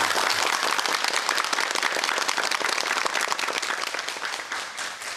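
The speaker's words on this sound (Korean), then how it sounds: "최강식 교수께 큰 박수 부탁드리겠습니다" A lecture hall audience applauds at the close of a televised history lecture, a loud, thick and sustained burst of clapping from many hands that eases off slightly near the end.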